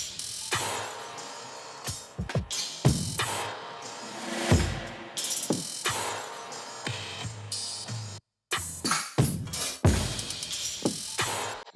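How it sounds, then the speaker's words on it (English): Dense, busy drum loops chopped from downloaded samples, packed with crashes and hi-hats, playing continuously with bright cymbal wash and punchy hits and one brief dropout near the end, no voices. "I also have a lot of like crashes, hats, and everything just to get the bounce right"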